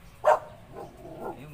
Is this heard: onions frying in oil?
no